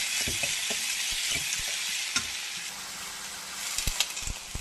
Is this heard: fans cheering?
no